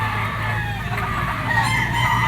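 A yellow-legged straight-comb gamefowl stag rooster clucks and calls up close in a short burst, with a steady low hum of surrounding noise underneath.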